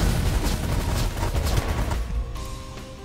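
Dense, continuous rapid minigun auto fire from The Last Federation space game, loud and sustained for about two seconds before cutting to a quieter tonal hum.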